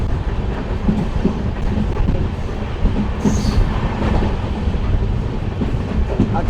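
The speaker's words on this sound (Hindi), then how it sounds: "मुझे एक बात अच्छी लगी ट्रेन की कि जब ये स्टेशन छोड़ती है तो बड़ी जल्दी ये अपनी स्पीड पकड़ लेती है।" The Amritsar–Bikaner Superfast Express picking up speed after leaving a station, a loud steady rumble of wheels and carriages with faint rhythmic clatter, heard from inside the rear coach.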